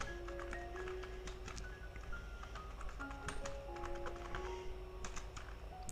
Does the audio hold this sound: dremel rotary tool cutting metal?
no